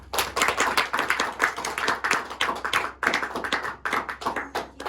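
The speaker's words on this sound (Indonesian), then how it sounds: "beri tepuk tangan untuk kita semua" A classroom group claps hands together in an uneven, lively burst of applause lasting several seconds, close and steady.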